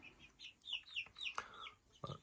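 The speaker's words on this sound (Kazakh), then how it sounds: "Міне австралоптың әтеші." An Australorp rooster and hens cluck softly in a small flock, a few short, faint calls coming one after another in a quiet setting.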